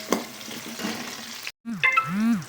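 Green chillies and curry leaves sizzle in hot oil in a pan for carrot poriyal, with soft frying crackle and a few spoon scrapes, a brief gap, then clattering and a higher ringing scrape.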